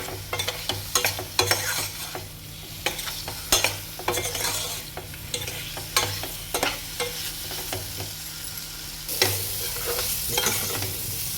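Spices frying for a paneer curry, a steady sizzle broken by repeated close scrapes and knocks of a spoon stirring the pan, with a low hum running underneath.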